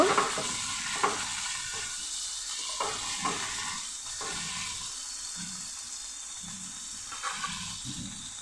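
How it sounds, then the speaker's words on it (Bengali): Ginger-garlic paste fries with browned onion in a pan for a teasel gourd (kakrol) curry, giving a steady hissing sizzle broken by repeated scraping stirs, with no talk. "আদা রসুনের কাঁচা গন্ধটা চলে যাবে একটু ভেজে নেব"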